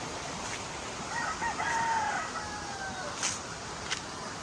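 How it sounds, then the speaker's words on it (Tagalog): Roosters crow and hens cluck around a chicken yard on farmland near a creek, several calls rising over steady outdoor background noise, with a couple of sharper crows late on. "May mga manukan."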